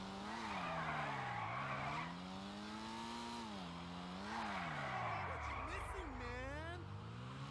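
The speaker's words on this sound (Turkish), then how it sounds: "Araba mükemmel kayıyor." Tires squealing as a car drifts in the video game GTA Online, long loud skids that swell and fade in sweeping waves over a revving engine, with someone talking over them.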